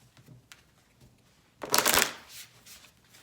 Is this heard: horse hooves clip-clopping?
no